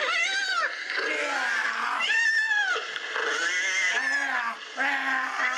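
Cats meow and yowl over and over, played back loudly by a cat alarm prank, with drawn-out, wavering cries following one another almost without pause.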